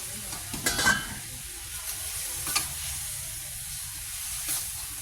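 Catfish stir-fried in chili curry paste in a wok gives a steady hiss of frying broken by a few scraping stirs near the start and one later, with no voices.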